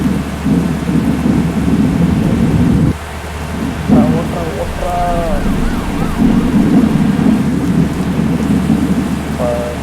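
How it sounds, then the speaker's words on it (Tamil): Steady heavy rain roars throughout with low rumbling thunder, broken by a brief dip and a few faint tonal chirps midway, in a bus-driving simulator video game. "பலத்த மழை பெய்யுது"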